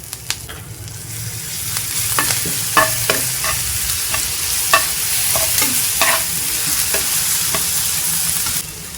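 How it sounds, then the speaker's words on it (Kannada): Cumin, mustard seeds, asafoetida, curry leaves and green chilli paste frying in hot oil, a loud close sizzle with scattered sharp pops and crackles and the scrape of a stirring spoon. "ಕಾದ್ಮೇಲೆ ಒಂದು ಸ್ವಲ್ಪ ಜೀರಿಗೆ, ಸಾಸಿವೆ, ಒಂದು ಸ್ವಲ್ಪನೇ ಹಿಂಗು, ಸ್ವಲ್ಪ ಕರಿಬೇವು, ಒಂದು ಸ್ವಲ್ಪ ಹಸಿಮೆಣಸಿನ್ಕಾಯಿನ ಪೇಸ್ಟ್ ಮಾಡ್ಕೊಂಡು ಹಾಕೋತಾ ಇದ್ದೀನಿ"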